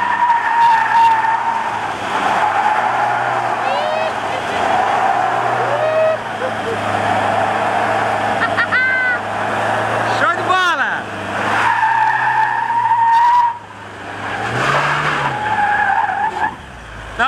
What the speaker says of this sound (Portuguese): vai meter um borrachão.